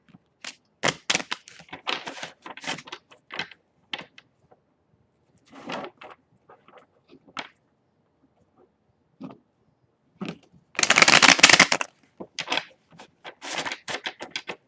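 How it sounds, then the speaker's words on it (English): Bursts of papery riffling and tapping as a deck of tarot cards is shuffled, in irregular clusters with pauses, one longer, louder riffle near the end. "I'm going to do 2 more shuffles"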